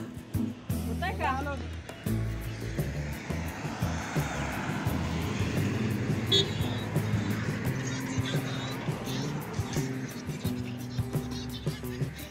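A car on a ghat road runs again after a long roadside repair of a minor fault. Its engine holds a steady, close droning hum while people talk over it throughout.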